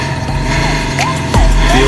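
Modified Royal Enfield Bullet 350 motorcycle in Punjab, its engine thumping close and loud with a steady low rumble that swells near the end.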